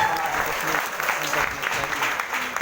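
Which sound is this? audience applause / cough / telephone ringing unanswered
audience applause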